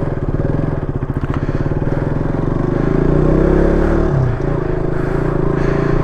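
A motorcycle is ridden at speed, with a loud, steady engine drone and heavy wind rumble buffeting a helmet microphone, sunset riding in foggy weather, with a slight pitch dip near the end.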